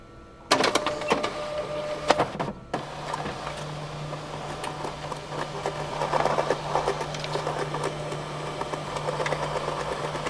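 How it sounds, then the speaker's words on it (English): A machine starts up with a sharp mechanical clunk, then runs with a steady hum, whirring and intermittent clicking and rattling, like a fax machine feeding paper. "It's a fax machine."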